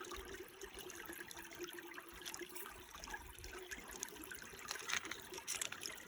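Water trickles and burbles over rocks in a small outdoor stream, a steady soft splashing wash that is close and continuous throughout, with no voices.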